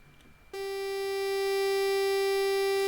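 A synthesizer sine wave joined by a saw wave sounds in after a half-second of near silence, a steady bright tone with rich overtones holding loud and unchanging to the end.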